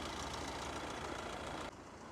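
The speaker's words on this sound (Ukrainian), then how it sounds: "Мотор працює чітко, рівненько, без захотівань, підтікань" A 2012 Nissan Qashqai+2 1.6 diesel engine idles close by with an even, steady chugging hum that drops slightly in level near the end.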